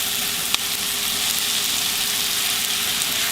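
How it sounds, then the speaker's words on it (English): Vegetables simmer and sizzle steadily in a crowded skillet for Southern Salisbury steak, a constant close bubbling hiss with one brief clink near the start. "But let these simmer just a few minutes and get soft."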